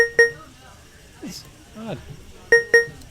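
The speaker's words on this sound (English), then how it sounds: "I don't know why my computer is beeping at me." Short electronic beeps from a computer sound in pairs, one near the start and two close together near the end, with faint voices in between.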